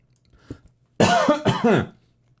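A faint throat sound, then a burst of two or three harsh, raspy coughs close up, followed by quiet.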